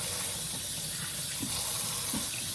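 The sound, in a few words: water running while washing celery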